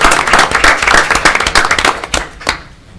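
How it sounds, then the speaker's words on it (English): A room full of people at a borough council meeting claps steadily and loudly, a dense patter of hands that thins out and fades toward the end. "Let's have a round of applause for Rachel."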